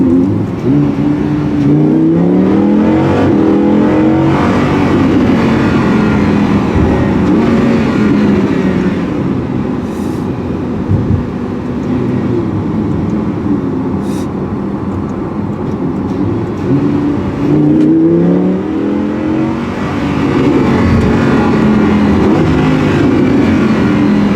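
A Lamborghini Huracan in sport mode roars loudly and continuously, its engine rising and falling through revs with a few sharp swells, close and dominant with no talk over it.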